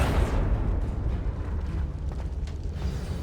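A Confringo blasting spell bursts in Hogwarts Legacy, a loud booming explosion that hits at once and then trails off into a rumbling, crackling decay.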